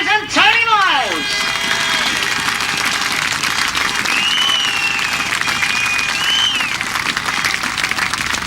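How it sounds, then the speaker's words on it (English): A crowd applauds the overall winners at the 2001 International Bonfire Burnup grasstrack meeting, a steady roar of clapping and cheering, with a loud whistle near the start and another whistle later, while a voice carries over the public address. "I want to hear a big round of applause"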